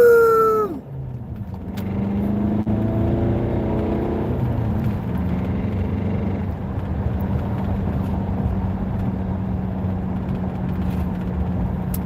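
Diesel vehicle accelerating onto a freeway, a low engine drone with rising gear tones that climbs through several shifts, then settles into a steady cruising hum under road noise.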